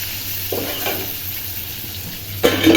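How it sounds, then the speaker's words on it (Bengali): Sliced pointed gourd, slightly overripe, sizzles steadily in a hot pan with occasional stirring scrapes and a sharper clatter near the end, no speech. "ওই পটলগুলোই একটু ভেজে নিচ্ছি"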